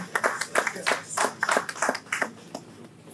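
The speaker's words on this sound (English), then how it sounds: "give a big round of applause to Ridwan Bello as I invite him to join us in this second panel" An audience at an economic outlook event claps for panelist Ridwan Bello, with sparse, uneven bursts of handclaps spread across a few seconds rather than a full roar, moderately loud and with no talk.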